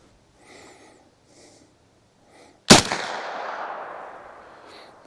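A single sharp, loud report from a 9mm Defiant Munitions TCX round fired from a carbine at close range, ringing out with a decaying echo after a few quiet breaths and sniffs.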